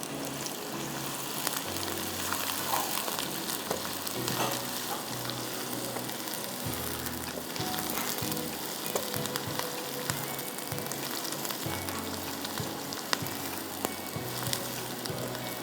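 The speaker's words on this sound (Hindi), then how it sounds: "थोड़ा सा प्याज को फ्राई करना है" Onions fry in a pan, a dense continuous crackling sizzle that stays loud and even throughout, with occasional soft scrapes and knocks beneath it.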